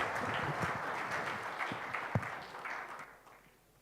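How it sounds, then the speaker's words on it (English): Audience at a construction industry conference in the UAE gives a round of applause, a brief burst of scattered clapping that fades away in under four seconds. "And a round of applause for Roger, please."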